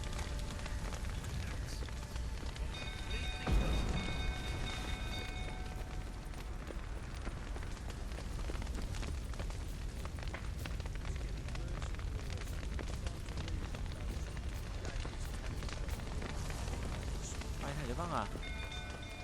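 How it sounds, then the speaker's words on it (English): Fire crackles and roars steadily as it spreads in The Witcher 3, a continuous rushing blaze with scattered pops and a heavier thump early on, while a character's voice is heard over it. "Fire's spreading."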